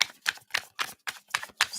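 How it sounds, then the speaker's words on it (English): Tarot cards being shuffled for a reading, with six or seven quick riffling bursts in a steady rhythm, close and fairly crisp, and no voice. "Let's shuffle these up."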